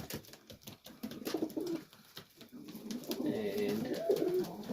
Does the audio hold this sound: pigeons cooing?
yes